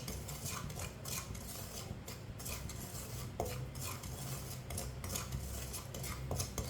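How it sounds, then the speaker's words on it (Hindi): A metal spoon scrapes and stirs semolina roasting dry in a pan for kheer, giving steady, continuous scratchy rustling with small clinks against the pan, fairly close and without speech. "सूजी को लाजमी चम्मच चलाते हुए पकाना है।"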